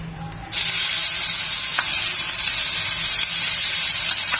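Onion, garlic and green chilli paste hits hot oil in a kadai, breaking into a sudden loud, steady sizzle that holds close and strong to the end with no talk over it.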